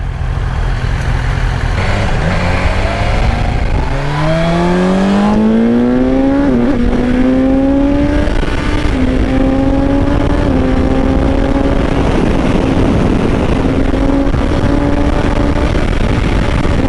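A 2023 BMW S1000XR motorcycle accelerates hard through the gears, the engine note climbing in loud rising sweeps with short breaks at each shift, heard close over strong wind noise.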